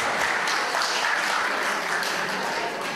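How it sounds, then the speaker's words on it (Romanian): An audience applauds at a special guests' recital and award ceremony, a steady, dense wash of many hands clapping that carries on at full strength throughout. "Și noi vă aplaudăm!"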